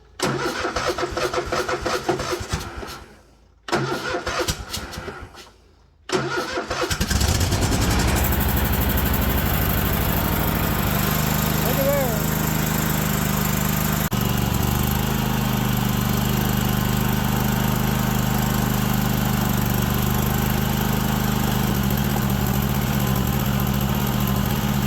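A riding lawn mower's engine cranks in a few stuttering bursts with brief pauses, then catches and settles into a loud, steady mid-pitched running drone that continues to the end.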